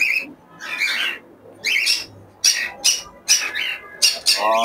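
Two pairs of cockatiels, a white-face male with a lutino female among them, let out a series of loud, harsh squawks in short bursts with brief pauses between, close by and with no talking.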